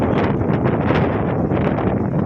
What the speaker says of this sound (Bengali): খুবই হাওয়া সাগরে। আর ঢেউ,